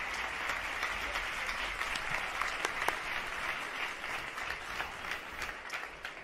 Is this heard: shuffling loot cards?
no